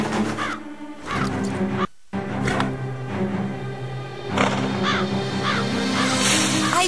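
In an animated scene, a crow caws repeatedly, loud and close, over a dense background of music and effects, with a brief drop to silence near the start.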